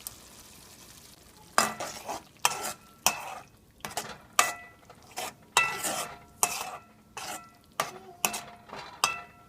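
Tomato and ground masala of shallots, dried red chilies and curry leaves frying in a pan: about a dozen rhythmic stirring scrapes over a soft, steady sizzle, fairly close.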